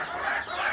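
A black hen and a rooster cluck softly close by, a steady low murmur of poultry sounds with no talking.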